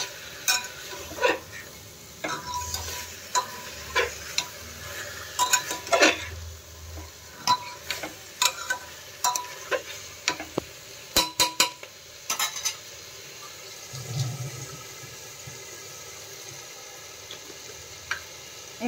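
Chicken stew being stirred in a pan over a high flame: a soft sizzle runs beneath frequent clinks and scrapes of a spoon against the metal, irregular and close.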